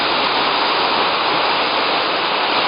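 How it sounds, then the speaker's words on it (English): Honey Waterfall roaring nearby, a loud, dense, constant rush of falling water with no other sounds. "Look at this waterfall, Honey Waterfall."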